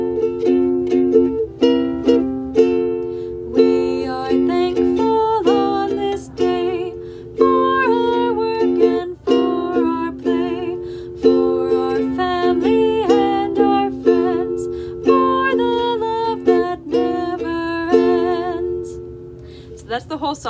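A short thankful song sung as a round by a music teacher, one clear voice carrying a steady melody for about twenty seconds with no backing besides its own harmonics.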